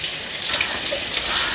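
Chopped medium onions frying in oil over cumin seeds, a steady soft sizzle and hiss throughout, close and even with no voices.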